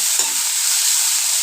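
Stuffed bitter gourd fries in oil in a pan over medium heat, a loud, dense, even sizzle filling the short stretch with no voices over it.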